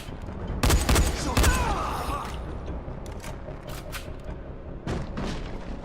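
Gunfire in the Dying Light video game cracks out in a few loud bursts early on, followed by scattered lighter shots and impacts over a steady game backdrop.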